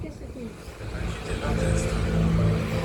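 Engine of a bus rumbles low and steady from inside while riding, rising slightly midway, with people talking over it.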